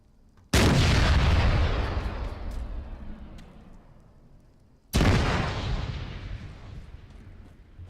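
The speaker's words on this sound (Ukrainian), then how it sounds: "Це вибухи." Two loud explosions from the video game Arma 3 boom out a few seconds apart, each a sudden blast followed by a long rumbling decay.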